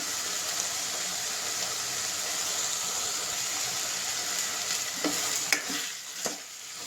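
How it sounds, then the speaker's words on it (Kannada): Potatoes sizzle steadily in hot oil in a home pan while being stirred, with a constant frying hiss and a few louder scraping stirs near the end, no voices. "ಇದು ಚೆನ್ನಾಗಿ ಎಣ್ಣೆಲೇ ಒಂದು 2ರಿಂದ 3 ನಿಮಿಷ ಫ್ರೈ ಆಗಬೇಕು."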